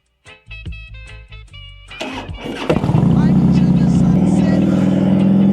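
A Harley-Davidson Softail motorcycle starts with a few short clicks and pops, then builds into a loud, steady, rumbling engine drone as it gets rolling.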